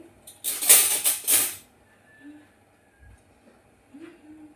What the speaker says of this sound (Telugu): నైట్ గిన్నెలన్నీ అయితే సర్దుకుంటున్నా.